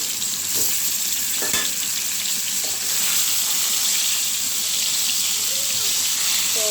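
Prawns and pointed gourd frying in plenty of oil, giving a loud, continuous sizzle close by, with faint utensil stirring scrapes and a brief voice in the background.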